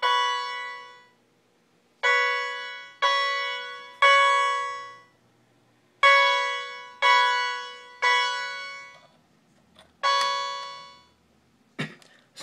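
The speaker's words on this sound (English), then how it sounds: "I have another strobe and another chime in the back, so you'll hear those" Loud electronic fire alarm chime tones from a Fire-Lite MS-9050UD panel drill ring out in repeated bursts, each decaying quickly, with short pauses between them and a click near the end.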